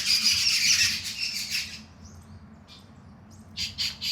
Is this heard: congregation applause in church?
no